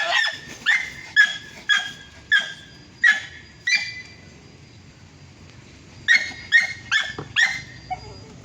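A pet dog barks in two bursts of about five sharp, high yaps each, separated by a quiet pause of roughly two seconds, close and fairly loud with no talk over it.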